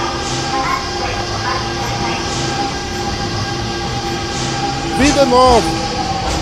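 A subway or metro train passing close by, with a steady rumbling roll and squealing wheels near the end, while a person speaks briefly over it.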